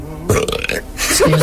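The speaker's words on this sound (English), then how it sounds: "Let's have a burping contest." A loud, long, gravelly burp rumbles out close up during a burping contest among kids, alone with no talk over it.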